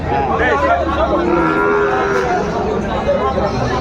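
Cattle moo loudly and repeatedly at close range at a bull market in Chittagong, Bangladesh, with crowd chatter and distant voices mixed in.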